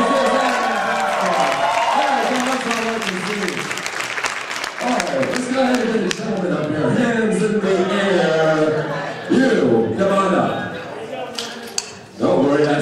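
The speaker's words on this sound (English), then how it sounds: "I want you to give them a big round of applause" Anime convention crowd at Nebraskon 2014 breaking into loud sustained applause and cheering for a dating auction onstage, clapping filling the whole stretch with voices shouting over it.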